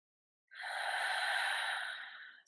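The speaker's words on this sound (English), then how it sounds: "just take some deep breaths" A single long, deep breath drawn in slowly and smoothly through the nose and mouth during a calm guided meditation, close and clear, lasting about two seconds and surrounded by silence.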